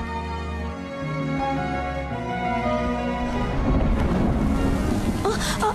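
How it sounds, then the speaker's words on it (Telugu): Heavy night rain pours steadily and loudly, with rumbling thunder underneath and a sharper crash toward the end. Tonal music sits over the downpour. "వర్షం ఒకటి పడుతుంది"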